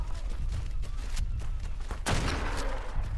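Rapid gunfire from a player's weapon aimed at an Argentavis in the game ARK Survival Ascended, a fast string of loud close shots with a heavier blast near the end.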